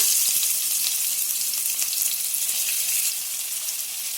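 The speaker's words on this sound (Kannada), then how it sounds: "ಇಲ್ಲಿ ನಾನು ಫ್ರೈ ಮಾಡಿರುವಂತ ಎಣ್ಣೆ ಬಿಸಿ ಆಗಿರೋದ್ರಿಂದ ಅದನ್ನೇ ಹಾಕೋತಾ ಇದ್ದೀನಿ ಕಟ್ ಮಾಡಿರುವಂತ ಈರುಳ್ಳಿಯನ್ನ ಹಾಕೊಳ್ಳೋಣ" Chopped onions fry in hot reused refined oil in a pan, giving a loud, steady, close-up sizzle that continues without a break and eases slightly near the end.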